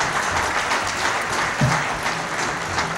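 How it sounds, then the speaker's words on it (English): Sustained applause from the United Nations General Assembly hall after Benjamin Netanyahu's address, a dense, steady clapping from a large audience that fills the room evenly throughout. "you heard the applause on behalf of the General Assembly at the end of the remark"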